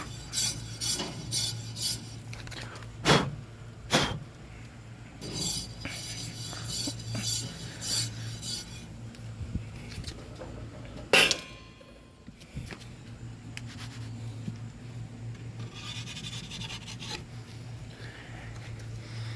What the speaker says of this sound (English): Gotta break off all that old stuff off of the grate, off the stone.